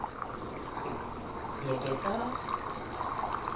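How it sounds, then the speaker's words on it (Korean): Hot water poured from a kettle about 10 cm high into a teapot during a Korean traditional tea ceremony, a soft steady splashing stream under a woman's speech. "주전자를 들고 와서 10cm 높이 정도에서 물을 따라 주시면 물소리가 예뻐요."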